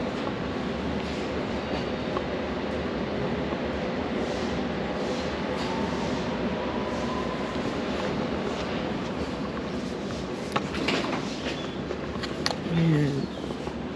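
A District line train pulls out of Upminster station bound for Ealing, a steady rumble with wheel clatter and a rising squeal near the end, heard on an open platform.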